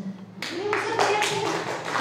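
Audience applause at the 2023 Milazzo International Film Festival breaks out after a brief moment and swells into steady, dense clapping from a crowd, with a voice talking faintly underneath.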